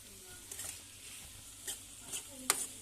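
Ivy gourd (dondakaya) sizzles steadily in a pan, a soft continuous fry broken by a few light clicks of stirring, faint and close with no one speaking.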